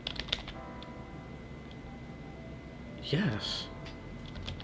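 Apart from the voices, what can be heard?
typing on a computer keyboard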